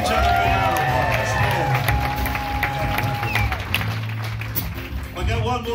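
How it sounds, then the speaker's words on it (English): Audience at a live concert in a Denver club clapping and cheering together, a steady loud crowd applause with shouts and whistles over a sustained tone. "Give each other a big round of applause."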